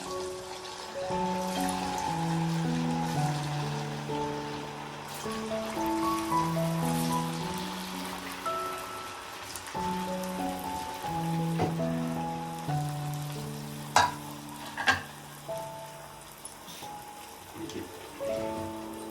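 Kodbale frying in sunflower oil over a medium flame produce a steady, hissing sizzle beneath a prominent melodic music track, continuous throughout with no talking.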